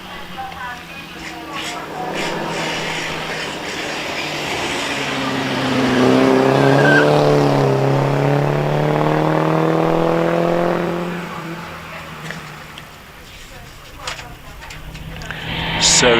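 Supercharged vintage MG PB sports car at the Prescott Hill Climb, its engine note building loud and close as it passes, then fading away, with a commentator talking throughout.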